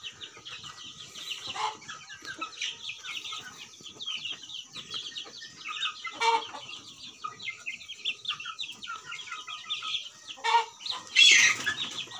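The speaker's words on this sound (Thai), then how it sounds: "ที่เห็นอยู่นี่คือเป็นไก่ซินดำหมดเลยนี" Black-meat chickens cluck and chatter on a farm, a faint continuous flock murmur with a few louder squawks and a burst of wing flapping near the end.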